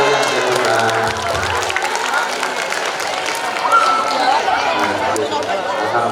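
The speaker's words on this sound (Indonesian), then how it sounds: "Kita kasih tepuk tangan untuk yang terhormat." Schoolchildren applauding at a Maulid Nabi Muhammad celebration, a dense wash of clapping mixed with crowd chatter and children's shouts, steady and fairly loud across the clip.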